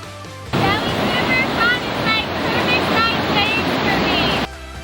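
Small whitewater surf waves rolling onto a beach at Raglan, New Zealand, a steady broad wash of breaking water filling the scene, with faint high chirps scattered over the surf noise.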